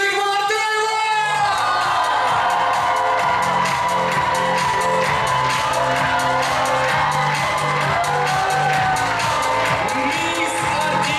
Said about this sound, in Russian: Мисс Артистизм, друзья, громкие аплодисменты!